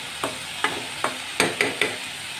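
Six crisp scraping strokes of a spatula stirring rohu fish frying with turmeric in a pan, evenly spaced at first then quicker, over a soft sizzle.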